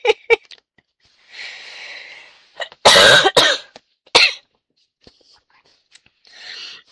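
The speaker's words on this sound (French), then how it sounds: "Faut pas que je rigole. Parce qu'après ça me fait tousser." After laughing, a woman coughs up close in several harsh bursts, with soft breathy sounds and quiet whispering in between.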